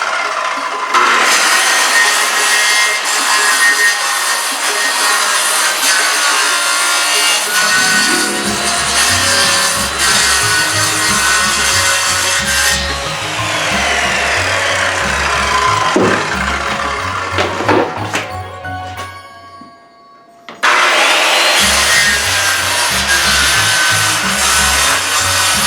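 Wood from a pallet is sawn with long rasping back-and-forth strokes, loud and close, with a rhythmic rubbing pulse and a short pause before the cutting resumes.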